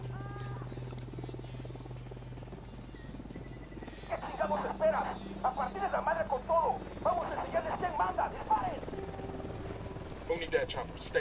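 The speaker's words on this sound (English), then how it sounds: "I can hear a helicopter" A helicopter in the Ghost Recon Wildlands video game drones steadily at a distance, a low continuous hum beneath someone talking over it.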